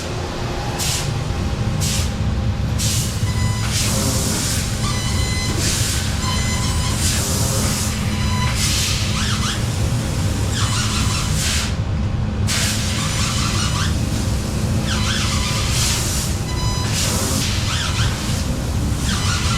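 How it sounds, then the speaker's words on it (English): A laser cutting machine calibrating and referencing a sheet, giving a loud, steady hiss and whine with rhythmic bursts and pauses as the head moves, continuous throughout. "now it's calibrating and referencing. Finding the sheet"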